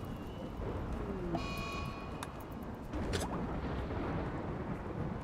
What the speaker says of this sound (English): When's that frickin' rainy thunderstorm over?